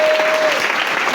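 A church congregation bursts into loud, sustained applause acclaiming the Lord during a French-language worship service, a thick continuous roar of clapping filling the room with a faint sustained tone running beneath.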